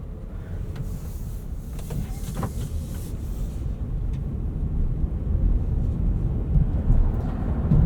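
A 2023 Honda Pilot Trailsport driving on rough, bumpy spring roads in Michigan, heard from inside the cabin as a steady low road rumble and tire roar that grows louder over time, with occasional clunks from the bumps.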